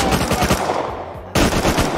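Rapid automatic gunfire in the video game Rust, loud bursts of machine-gun fire with a brief pause before it resumes just as heavily.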